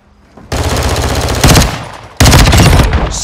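Loud, sustained automatic gunfire from Modern Warfare 3's Infected mode comes in long bursts with brief breaks between them, close and harsh.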